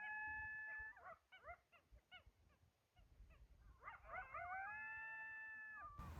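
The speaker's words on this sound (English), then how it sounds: "Coyotes!" Coyotes at sunset in Anza-Borrego Desert State Park, a pack howling at a distance with drawn-out wavering howls broken by a run of short yips and barks, then rising into a long chorus of howls.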